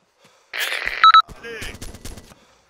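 Gunfire in the video game Arma 2, a burst of automatic shots followed by a short tonal beep and further mixed game effects, fairly close and loud.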